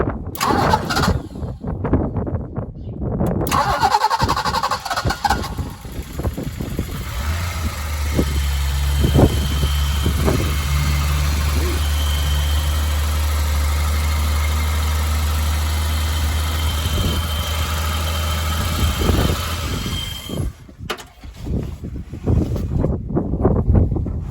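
A BMW E30 323i engine in a garden cranks briefly, catches and settles into a steady, loud idle that runs close by for most of the stretch, with faint wind and short bursts of noise at the start and end.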